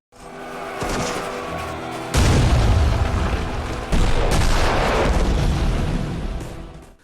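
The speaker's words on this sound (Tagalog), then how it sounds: "Sunod-sunod na pagsabog ang bumagsak sa kanilang paligid" Heavy World War II artillery blasts land one after another around Soviet soldiers at Rzhev, deep and rumbling, with a sharp louder impact near the start and another midway, under a constant roar.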